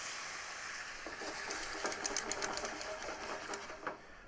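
Chorizo and mussel soup with filtered mussel juice comes to a boil in a pot, giving a steady, faint hiss with small scattered bubbling pops throughout, no talk.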